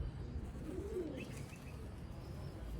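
Black-faced Sialkoti breeder pigeons coo on a rooftop, a soft rolling coo rising and falling near the middle amid a low, steady background murmur, with faint chirps drifting in.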